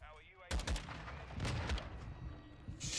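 Battle rifle gunfire in the video game Modern Warfare 2 erupts suddenly after a quiet moment, loud and close, with rapid bursts of shots and a raspy voice heard around the shooting.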